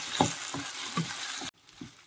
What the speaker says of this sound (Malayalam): ഞാൻ ഇളക്കി കൊടുക്കുന്നുണ്ട്, അല്ലെങ്കിൽ കട്ട പിടിക്കും.